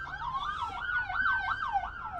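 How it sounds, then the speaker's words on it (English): Police car siren wailing up and down in a rapid repeating cycle on a city street, clear and fairly close, with light traffic noise underneath. "That cop, he just turned the siren on because he's going right now."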